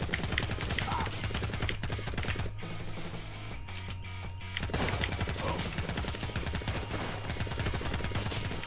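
Rapid automatic gunfire from the battle-royale video game Radical Heights, dense bursts of shots filling most of the stretch with a brief lull in the middle, loud and close.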